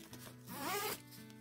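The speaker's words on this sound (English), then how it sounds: "It's got a zipper." The zipper on a small hand-carried picnic bag from a Wizarding World merchandise crate is pulled open in one quick, close rasping stroke lasting under a second, with no voices.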